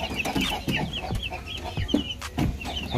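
Leghorn and Indo Gigante chickens cluck close by in a busy, irregular stream of short calls from several birds, with no talk.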